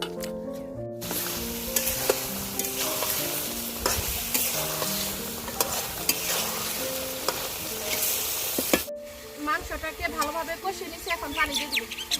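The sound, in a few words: meat frying and being stirred in a pan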